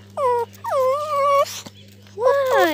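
A frightened puppy, upset by a metal detector, whimpers in three high, wavering whines close by with short pauses between them over a faint steady hum.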